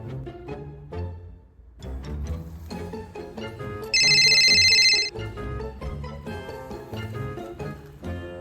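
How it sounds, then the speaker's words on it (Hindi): A telephone rings once, a loud, bright electronic ring lasting about a second, set against busy background music with plucked and percussive notes. "अच्छा, परवीन को फोन करती हूँ"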